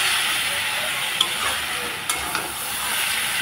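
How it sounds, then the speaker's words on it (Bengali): Chickpeas with spices fry in a pan alongside nearly boiled potatoes, producing a loud, continuous broadband sizzle with a few faint utensil clicks and no speech. "মশলাও ভাজা হয়ে গেছে, বুটও ভাজা হয়ে গেছে"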